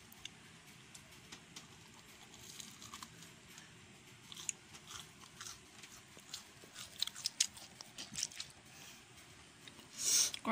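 Someone chews a crunchy, spicy papaya omelette, tortang kapayas, up close, with soft crunches and wet mouth sounds building in irregular bursts toward the end.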